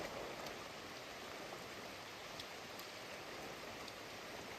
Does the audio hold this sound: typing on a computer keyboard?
no